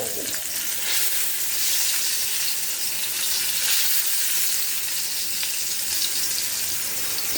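Steady, loud sizzling of pork chops frying in hot oil, a dense crackling hiss that continues without pause and with no voices.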